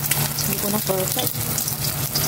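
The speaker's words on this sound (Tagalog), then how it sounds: "I-scramble ko na lang itong 2 egg." Two eggs scramble and fry in a hot pan, a steady loud sizzle running throughout with faint stirring scrapes and no talking.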